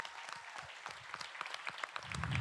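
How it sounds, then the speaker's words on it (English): Round of applause at a city council meeting honoring state championship winners, many hands clapping in a dense, even patter that swells slightly toward the end. "let's give a round of applause for"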